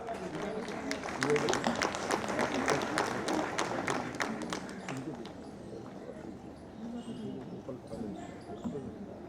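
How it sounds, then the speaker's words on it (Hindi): An audience at a Ram temple fund-dedication gathering claps for an honoured guest, a dense burst of many hands that thins out toward the end, with a voice over a microphone heard through it. "एक बार जोरदार तालियों के साथ।"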